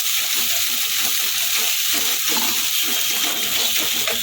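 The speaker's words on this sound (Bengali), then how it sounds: "এই তেলের মধ্যেই এই পোস্ত নারকেল বাদাম বাটাটা দিয়ে দেবো যেহেতু বাদাম আছে তার মধ্যে এটাকে অনবরত নাড়তে হবে" A paste of poppy seed, coconut and peanut fries in hot oil with a steady, dense sizzle. Faint stirring sounds come through under it, close up and continuous.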